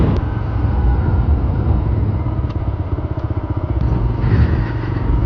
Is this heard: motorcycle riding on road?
yes